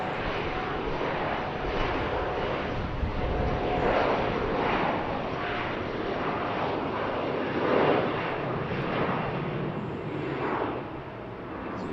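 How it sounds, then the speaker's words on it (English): Delta Embraer E-175 jet airliner at BWI airport, a moderate, distant engine rumble that stays fairly even with slight swells, no talking over it. "It's a Delta E-175."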